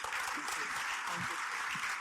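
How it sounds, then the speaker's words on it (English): Audience applause at a Dallas founders and AI summit, steady dense clapping filling the whole short stretch at moderate distance, with faint voices beneath. "Let's give both of these people a round of applause."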